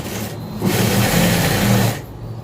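A sewing machine stitching a blouse, a short close burst of rapid, even mechanical whirring that starts abruptly, runs about a second and a half and stops, with quieter handling noise before and after.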